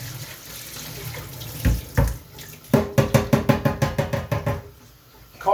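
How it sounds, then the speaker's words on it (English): Tap water runs into a sink while coriander is rinsed, starting as a soft splash and breaking into a quick series of rhythmic sloshing pulses close by, with no talking. "Let's give it a quick rinse"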